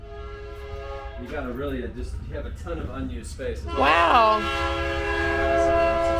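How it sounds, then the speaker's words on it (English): A train rolls past close by with long, loud horn blasts rising over the rumble, while people talk during a tour of a fourplex rental property in Kansas City. "Yes, that is a train."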